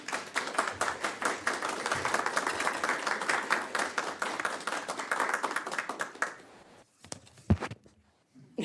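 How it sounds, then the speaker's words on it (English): Applause at a city council meeting honours a button contest winner, a dense burst of many hands clapping for about six seconds before it fades to scattered claps and quiet. "we can give her a round of applause"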